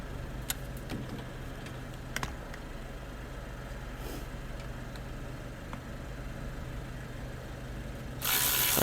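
A ratchet loosens the brake caliper bolts on a Chevy Silverado 1500, giving a few sharp clicks over low garage hum before a louder burst of noise at the end.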